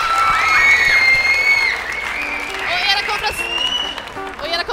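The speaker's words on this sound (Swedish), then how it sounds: "Ja, en varm applåd." A crowd at the Melodifestivalen song contest in Strömsund, 2006, applauds warmly, clapping and cheering together while a tonal whistle-like sound wavers over the noise.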